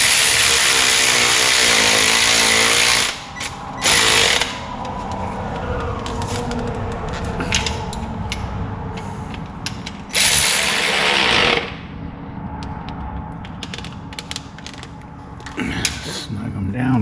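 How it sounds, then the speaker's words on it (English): Ratchet tightening bolts on a 1966 Plymouth Belvedere during an engine install, with loud sustained creaking and grinding bursts, a steady mechanical drone, and pauses between pulls, close up. "So let's see if we can get this side to cooperate, and we'll get these tightened down."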